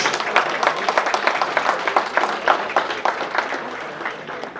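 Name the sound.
applause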